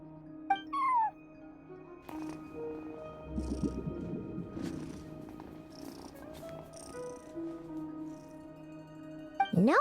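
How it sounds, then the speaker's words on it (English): A cat in the Genshin Impact video game gives a couple of short, faint meows and a soft purring rumble, set against quiet game ambience with no talk. "No one except for a cat watching over the front desk."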